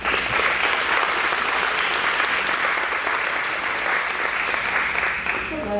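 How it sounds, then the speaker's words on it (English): Audience applause at a school back-to-school event, steady and dense clapping filling the room at close range throughout, with no speech over it. "so you don't have to clap after each of us"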